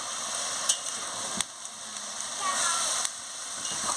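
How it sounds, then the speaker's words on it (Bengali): Cabbage curry frying in a pan, a steady bright sizzle with a few sharp scraping knocks as it is stirred, a voice speaking faintly underneath. "দেখুন এইভাবে ভালো করে আমি নাড়িয়ে নিচ্ছি।"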